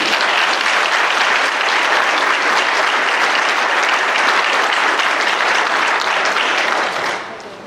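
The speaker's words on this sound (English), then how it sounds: "Give a warm round of applause" A crowd at a school athletic hall of fame induction applauds loudly and steadily, dense clapping that holds for several seconds before fading out.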